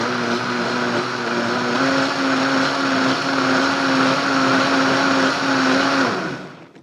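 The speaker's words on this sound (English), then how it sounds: "Now we're really blending that soup up." A blender whirs loudly and steadily, purees tomato soup made with whole tomatoes, a close, continuous motor whine with churning liquid that winds down abruptly at the end.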